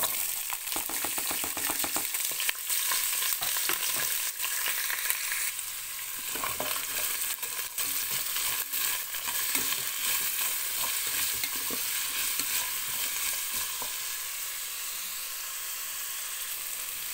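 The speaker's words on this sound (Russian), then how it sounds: "Все это дело немножко обжариваю." Carrots, onion and bell pepper fry in hot oil inside a multicooker, giving a steady close sizzle with scattered crackles and faint scraping as the vegetables are stirred.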